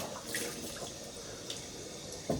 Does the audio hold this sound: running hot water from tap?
yes